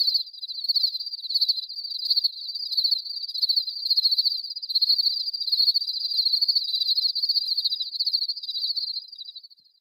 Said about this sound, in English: these are crickets and not cicadas.